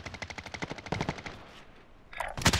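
Rapid automatic gunfire in the video game Warzone, a fast burst of evenly spaced shots followed by a brief pause and then a louder, denser flurry of nearby fire.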